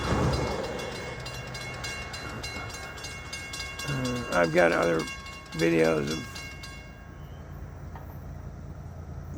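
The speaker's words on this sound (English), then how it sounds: "let's get the train blowing through the crossing tonight" FEC freight train at a road crossing at night, its horn sounding in two loud blasts over a steady rumble of rolling cars, with a brief spoken line heard under the noise.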